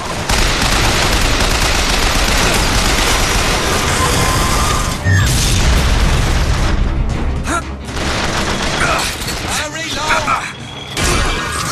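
Turret gunfire in the BioShock Infinite video game: loud, sustained rapid bursts with booming impacts and crashing debris, dense and close, briefly interrupted and then resuming, with a voice heard over the din.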